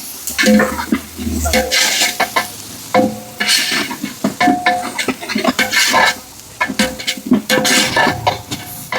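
Ginger garlic paste sautés in a large pot for beef biryani, with steady sizzling and frying under repeated scraping and clanking stirring strokes of a spoon against the metal, close and loud.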